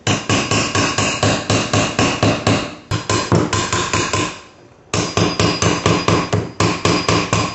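Loud, rapid hammering during house remodeling, with steady, evenly spaced blows, a brief pause in the middle, then the pounding resumes.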